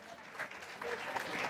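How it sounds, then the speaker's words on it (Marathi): An event audience applauds, with a brief burst of clapping rising and falling over about a second and a half, moderately loud and dense. "जोरदार टाळ्या असल्या पाहिजे"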